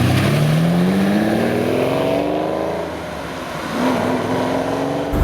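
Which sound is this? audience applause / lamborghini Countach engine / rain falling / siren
lamborghini Countach engine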